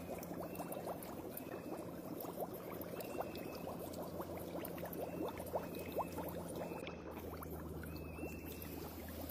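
Ocean water bubbles and fizzes continuously at Nanoose Bay, a faint, dense stream of small pops and gurgles over a low steady rumble, with no talking.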